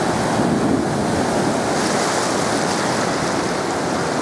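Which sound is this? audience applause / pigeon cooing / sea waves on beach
sea waves on beach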